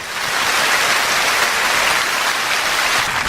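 Dense, steady applause from a concert audience welcoming a cellist to the stage at a peace memorial concert, a continuous wash of many hands clapping at close range, with no talk over it.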